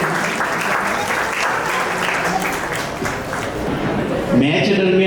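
A crowd at an annual community gathering of the Bardoli Kshatriya community claps loudly to welcome a guest. The applause is dense and continuous, and near the end a voice begins speaking over the tail of the clapping.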